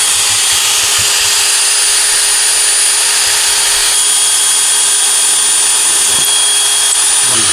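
A power drill drives cheap sheetrock screws to bolt down a wooden platform for a Halloween haunt display, a loud, continuous high whine held steady throughout, close to the microphone.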